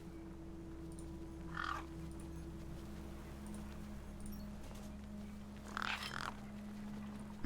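Crows caw twice among carrion-eating birds in the video game Beyond A Steel Sky, two short raspy calls rising over a steady low ambient hum.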